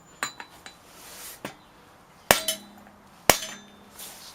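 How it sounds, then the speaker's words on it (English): A rubber hammer striking a wheel bearing shaft on a Hyundai i20 during a front wheel bearing change: a few light taps, then two sharp, loud metallic blows a second apart, ringing briefly in a quiet workshop. "Nice clean blow with this rubber hammer."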